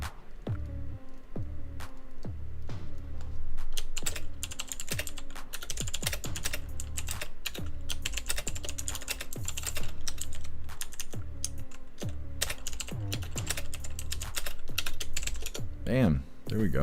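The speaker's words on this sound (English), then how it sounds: "Stress typing." Fast, hard typing on a computer keyboard clatters in dense bursts of loud, close keystrokes throughout, with a voice murmuring underneath at times.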